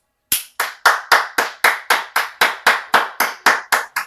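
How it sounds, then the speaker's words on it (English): Thirteen sharp hand claps in a steady, evenly spaced rhythm, each loud and close with a quick decay, marking a celebration during a live stream; no voices underneath. "I clap because I am celebrating you in advance for what your desires are."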